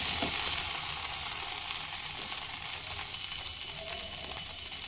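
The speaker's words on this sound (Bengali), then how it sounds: "ভেন্ডিগুলো মিডিয়াম ফ্লেমে নাড়াচাড়া করে হালকা লালচে করে ভেজে নেব" Okra frying in hot oil in a kadai over medium flame, a steady dense sizzle with faint stirring scrapes throughout, fairly loud and close with no voices.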